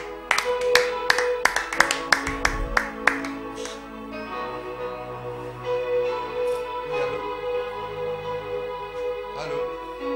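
A church congregation claps in acclaim of Jesus, a burst of sharp, rhythmic claps for the first few seconds, then giving way to a sustained murmur of voices and background sound.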